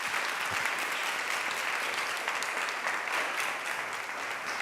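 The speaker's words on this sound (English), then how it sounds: "Let's give everybody a round of applause." Sustained applause from an audience in a church after a panel discussion, a dense, even clapping that stays loud and continuous throughout with no voices on top.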